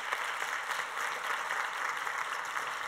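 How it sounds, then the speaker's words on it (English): An audience applauds a panel at a higher education event on digital credentials, with continuous, even clapping from a seated crowd that holds steady from start to finish. "please give a round of applause to our distinguished panel"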